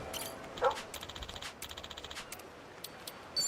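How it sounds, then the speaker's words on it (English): A dog in the video game Yakuza: Infinite Wealth barking in a few short, sharp yips spread across the moment, with game sound effects around them and no voices. "Dog!"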